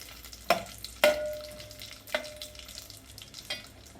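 Cloves, cashews and dried dates get stirred in hot ghee in a pan for a wheat-semolina and jaggery porridge. A low sizzle sits under several sharp metal spoon clanks against the pan, one ringing briefly.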